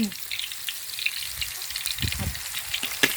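Hot oil sizzles steadily as chili and garlic are stir-fried, with occasional louder crackles and spatter bursts near the pan; no voices.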